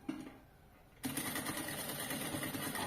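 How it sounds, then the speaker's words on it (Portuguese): A sewing machine stitches a bag seam: a brief burst of running stitches, a short pause, then a steady, fast mechanical whirring that continues at close range to the end. "E vou costurar."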